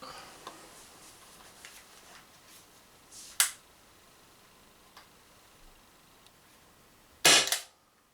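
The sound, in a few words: Umarex Impax P68 CO2 air pistol shots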